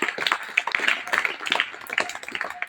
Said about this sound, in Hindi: आप जौनपुर जनपद के लिए ताली बजा सकते हैं।